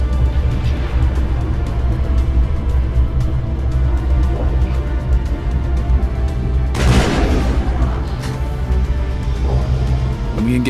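A single grenade blast in the video game Mass Effect, a sudden loud boom midway through a steady bed of combat noise and rumble, with no voices over it.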